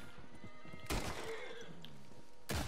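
A horse whinnies while being brushed in Red Dead Online, a short burst with a second call near the end, over a busy game background of music and ambience.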